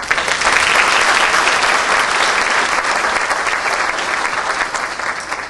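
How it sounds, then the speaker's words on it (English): A large conference audience at a world affairs national conference applauds loudly and steadily, dense clapping filling the room throughout and easing slightly toward the end. "We would like to give a great round of applause for Carlos."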